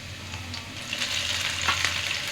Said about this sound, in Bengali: এটা হালকা ভেজে নিয়ে আমি এখন এর মধ্যে শাকটা দিয়ে দিব।